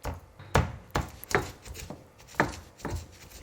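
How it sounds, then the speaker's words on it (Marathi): Garlic cloves pounded in a mortar, six or seven sharp thuds at an uneven, steady pace, close and fairly quiet with no talking. "त्याच्याकरता पहिल्यांदा आधी मी लसूण कुटून घेते"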